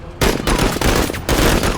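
Rapid bursts of automatic gunfire in the video game Menace, loud and close, with a short break between volleys and no talking.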